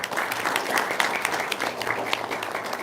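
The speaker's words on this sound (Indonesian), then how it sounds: "Nah, tepuk tangan dong." An audience gives steady, dense applause at an Islamic gathering, the clapping continuous and fairly close throughout.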